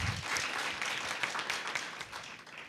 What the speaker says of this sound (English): Okay, yes, you can applaud that.